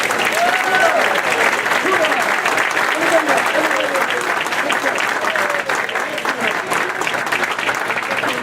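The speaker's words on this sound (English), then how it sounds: "I just want to offer up one more round of applause for all the recipients this evening" Sustained audience applause for award recipients at a vocational student banquet, a dense, steady round of clapping from a large indoor crowd, with some voices mixed in.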